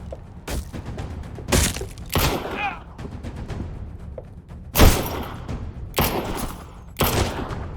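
Gunfire from an old Wild West pistol in Black Trail VR, a handful of loud, sharp shots spaced irregularly, with scattered thuds and game sounds between them.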